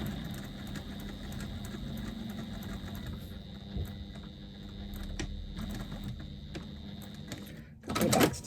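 A sewing machine runs steadily for several seconds, back stitching along a zipper facing, a close mechanical whir with a faint rattle, ending in a short louder burst.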